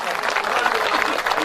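Audience at a Hindi hasya kavi sammelan poetry recital applauds loudly, a dense, steady wash of clapping from a crowd filling the whole short stretch without pause.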